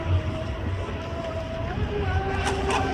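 A Proboat Sonic Wake 36-inch self-righting electric RC boat runs fast across choppy water on a windy day, its steady motor whine rising under a wash of water and wind noise.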